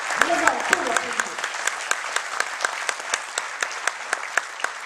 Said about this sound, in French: Vraiment, on peut l'applaudir.